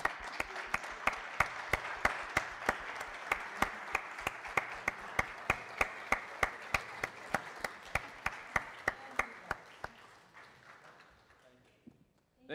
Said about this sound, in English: Join me in standing and offering up an applause of love for our pastoral.